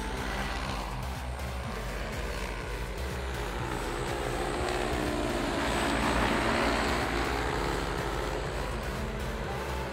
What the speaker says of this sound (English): So you can see the drone working here.